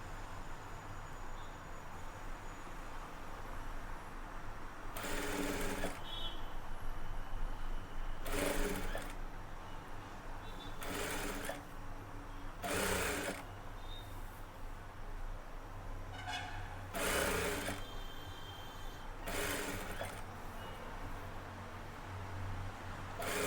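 A sewing machine stitches invisible thread piping in short bursts: about seven brief whirring runs of rapid needle clatter, separated by quiet pauses over a low steady hum, close and fairly faint, with no talk.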